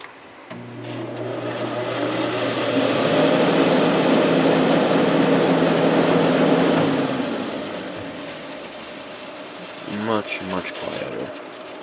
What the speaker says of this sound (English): I'll start it up on fan only real quick so you can hear it